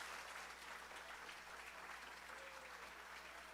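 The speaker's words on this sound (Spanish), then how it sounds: "Un aplauso a Cristo." A church congregation applauds for Christ during a pastor's sermon, sustained dense clapping that stays steady and full throughout over a low constant hum in the room.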